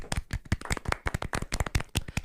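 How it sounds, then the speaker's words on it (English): A small group gives the Schumachers a golf clap: quick, close, crisp hand claps repeating in a fairly even rhythm for a couple of seconds, with no talking over them. "Golf clap for the Schumachers"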